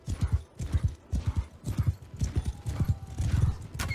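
Hooves of a horse galloping in Mount & Blade II: Bannerlord, a rapid, steady clip-clop rhythm running throughout, close and loud, with a brief neigh or whinny near the end.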